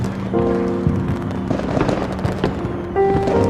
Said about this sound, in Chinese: 那么多烟花